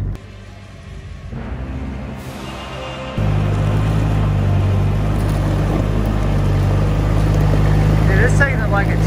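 Toyota Hilux engine pulling in four-wheel-drive low range, first gear, with a steady low drone that rises and holds loud and close, running continuously as a voice talks over it.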